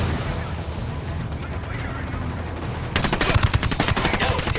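Gunfire in Ghost Recon Wildlands, with distant shots under a noisy game bed at first, then a close, loud stretch of rapid automatic fire.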